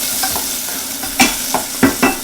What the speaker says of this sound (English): These I'm going to saute and just kind of brown them up a little bit.